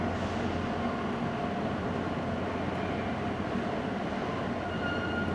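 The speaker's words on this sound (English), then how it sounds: "Listen to what a horrible racket that stinking diesel's making." A diesel train locomotive rumbles past close by, a loud continuous mechanical roar with a steady engine drone and rail noise over the whole stretch, with no talking.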